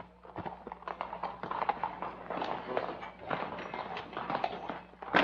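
Hooves of police horses clip-clop irregularly across a city square as mounted officers arrive, several overlapping strikes at moderate distance, with faint voices mixed in.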